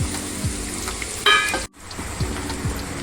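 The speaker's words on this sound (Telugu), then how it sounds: "ఉల్లిపాయలు పచ్చిమిరపకాయలు చక్కగా వేయించుకుందాం" Chopped onion and green chillies frying in hot oil for a prawn and brinjal curry, a steady crackling sizzle with a few stirring scrapes and a brief dip to near silence partway through.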